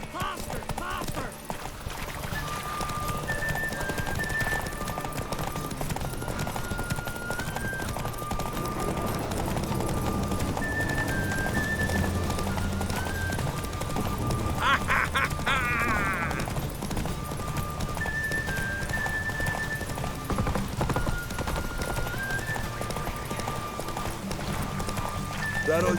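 Horses galloping in The Witcher 3: Wild Hunt, a steady rapid clip-clop of hooves throughout with an occasional neigh, under game music and characters talking.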